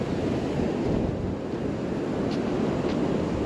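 Steady roar of surf washing onto a palm-lined beach in Mozambique, with constant wind noise over the microphone and no voices.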